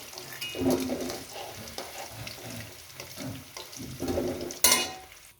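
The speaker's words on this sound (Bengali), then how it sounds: "এই আলুটাকে আমি ভেজে নেবো।" Potatoes fry in oil with a soft, steady sizzle, broken by the stirring and clinks of a utensil in the pan and a sharper knock near the end.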